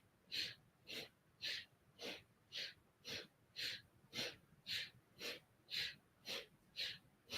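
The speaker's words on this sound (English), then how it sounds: "This is your exhale." A person doing yoga breathes out through the nose in a long run of short, forceful exhales, roughly two each second, steady and close with quiet pauses between.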